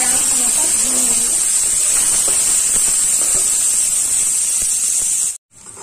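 Onions frying in hot oil tempered with cumin, bay leaf and dried chilli for a potato and jackfruit curry, giving a loud, steady sizzling hiss that runs continuously before cutting out abruptly near the end.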